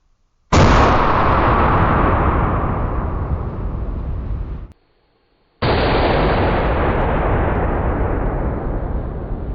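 Two long, loud booming blasts from a .50 caliber rifle's muzzle brake, fired at close range to destroy rolls of toilet paper, each shot rolling off in a drawn-out decay with a short silent gap between them.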